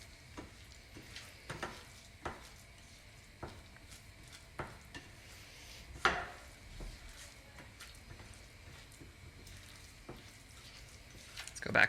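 Scrambled eggs stirred in a pan, with soft scraping strokes and sharp clicks of the utensil against the pan recurring every second or two over a steady low sizzle, close and fairly quiet.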